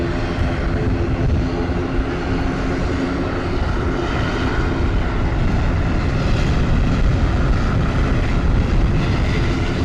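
Silver Airlines propeller airplane at SJU Luis Muñoz Marin International Airport, a loud steady engine and propeller drone running throughout with no talk.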